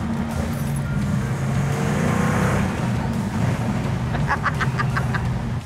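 A classic car's engine roars steadily as it accelerates hard, a loud, close, continuous drone with rising rasp in the upper range.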